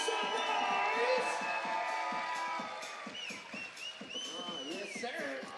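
Arena crowd cheering and shouting at the FIBA 3x3 World Tour basketball finals in Edmonton, a continuous roar with an announcer's voice over it.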